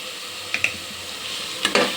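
Coriander powder being stirred into hot oil in a pan, quiet sizzling with a few sharp scraping clicks of the spoon in two short pairs.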